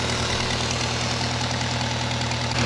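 A 4x4 forklift engine idling while it warms up, a steady loud mechanical rumble with a rhythmic knocking pulse, close and continuous throughout.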